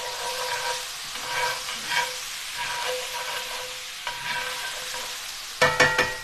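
Minced garlic sizzling steadily in a hot pan while being stirred, with soft scraping strokes recurring every second or so and a few sharper clatters at the end, no talking.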